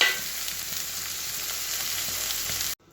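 Tomatoes hit frying chicken in a hot pan, giving a loud, dense sizzle that holds steady for nearly three seconds and then cuts off abruptly.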